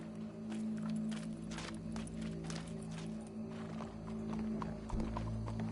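Steady clip-clop of horse hooves in Red Dead Redemption 2 over a continuous low hum, with occasional brighter clatters; fairly close and moderately loud, no talking.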